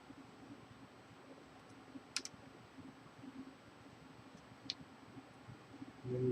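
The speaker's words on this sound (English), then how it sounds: "And it clicks in nice." A Dell Latitude D620 laptop keyboard snaps into place with two sharp, isolated clicks against a quiet, faintly hissing room.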